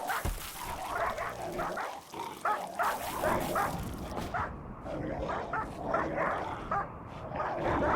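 Dogs barking in the video game Rimworld, a dense overlapping chorus of barks and yips repeating steadily throughout, loud and continuous with no talk.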